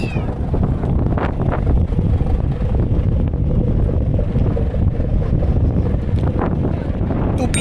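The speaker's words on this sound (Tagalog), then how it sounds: "lakas ng hangin, guys." Strong wind gusts at a windmill site in Ilocos Norte, Philippines, batter the microphone with a loud, constant low roar that never drops for the whole stretch.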